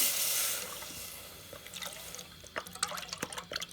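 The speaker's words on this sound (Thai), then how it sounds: "ใส่น้ำกะทิ" Coconut milk pours steadily into a pot, then gives way to a series of scattered drips and small splashes.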